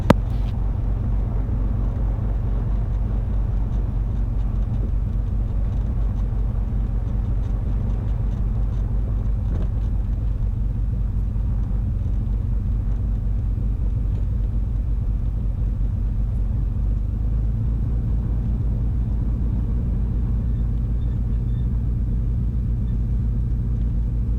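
Twin Cessna piston engines on the runway before departure, a steady loud low rumble and drone that holds throughout, with wind buffeting the microphone.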